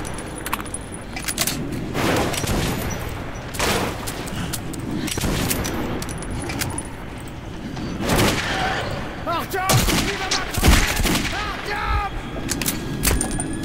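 Gunfire in the video game Metro 2033, with repeated loud shots and bursts over a dense, busy game soundscape of thuds and clatter, with voices talking over it at times.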